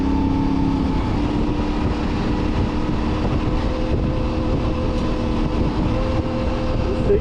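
A CFMoto 450MT motorcycle engine runs under light throttle on a mountain road: a steady, loud drone mixed with rushing wind noise continues without a break and without speech.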